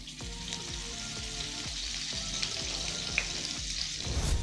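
Kebabs shallow frying in oil, a continuous close sizzle with faint crackles and a few soft stirring or placing sounds, no talk.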